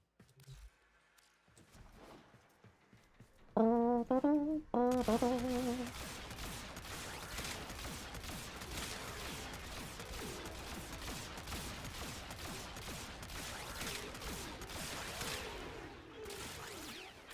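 A semi-automatic gun in Warframe fires a long run of rapid, evenly spaced shots that stay at moderate loudness. Brief tonal game sounds come just before the firing starts.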